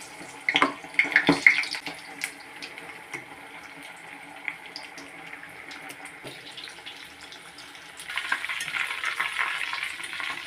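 Marinated chicken fries in oil for chilli chicken, a faint, low sizzle with scattered crackles and a few louder clatters early on, swelling into a denser hiss near the end.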